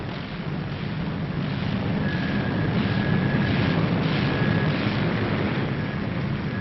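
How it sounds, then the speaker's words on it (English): A WWII-era propeller plane taxis and swings its nose into the wind, a steady broad engine roar and rumble holding loud and continuous throughout, with a faint whine riding over the top and blustery wind noise mixed in. "the first plane hauls her nose round into the wind"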